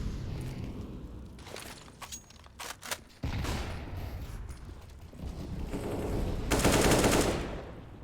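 Counter-Strike match gunfire: rapid bursts of rifle shots and single sharp cracks crowd the round, rising to a dense, loud volley near the end, with no talk over it.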